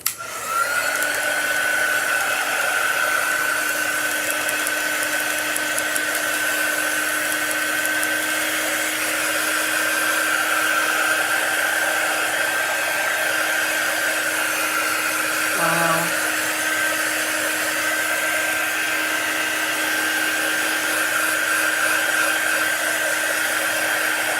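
Hair dryer blowing steadily up close to dry a delicate flower shadow box craft, a loud continuous whine and rushing airflow that runs unbroken throughout with a brief wobble midway.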